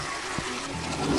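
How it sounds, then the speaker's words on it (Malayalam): A toilet in a prison-escape video game flushes in a short, close rush of running water. "നേരെ ഫ്ലഷ് ചെയ്തു"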